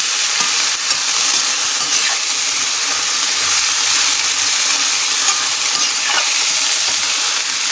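Fern and water spinach get stirred in a pan, a steady close sizzle with faint scraping and watery hiss running continuously without speech.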